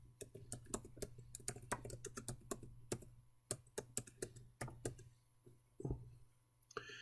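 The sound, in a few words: typing text on a computer keyboard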